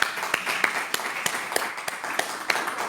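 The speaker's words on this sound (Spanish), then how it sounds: "¿Por qué no le brindamos un fuerte aplauso a nuestro Señor Jesucristo?" Church congregation clapping: sparse, uneven individual claps from a modest group, fairly faint and spaced out, with a few sharper hand strikes standing out from the room.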